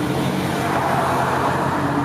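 Heavy street traffic in Alton rolls past as a steady, loud roadway roar of passing cars, with no talking.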